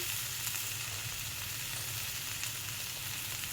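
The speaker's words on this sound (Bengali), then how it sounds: "এবার এটাকেও সুন্দর করে কষিয়ে নেব ওর সাথে মশলাটা" Vegetables sautéing with spices and cumin in a pan, giving a continuous dense hiss of frying that holds steady and even throughout, close by and moderately quiet, with no voices.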